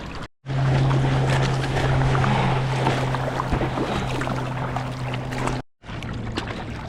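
Surfboard paddling out through glassy, windless water off Waikiki, a steady wash of splashing and rushing water filling the clip, loud and close, with a brief cut near the start and another near the end.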